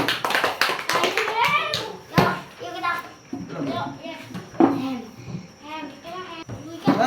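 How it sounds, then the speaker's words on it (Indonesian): A quick burst of hand clapping at the start, then children talking over the room. "Tepuk tangan"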